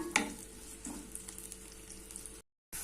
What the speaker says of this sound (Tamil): நல்லா நமக்கு கோல்டன் ப்ரௌன் வரணும் அந்தளவுக்கு ஃப்ளேம் வந்து மீடியமாக வச்சு வறுத்துக்கலாம்